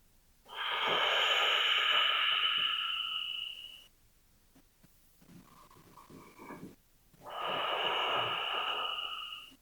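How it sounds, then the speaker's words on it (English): Deep breaths during a gentle yoga session: a long, airy inhale through the nose, a quiet pause with faint rustling, then another long breath, close and unaccompanied by speech. "Big breath. Big exhale."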